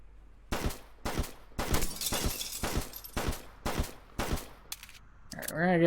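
Repeated gunfire in the Flashing Lights video game, about eight loud sharp shots in an uneven burst coming from upstairs in a building, ending with a short warbling tone.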